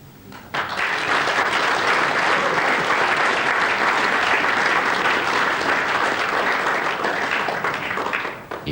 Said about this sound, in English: and applauded by Ken Doherty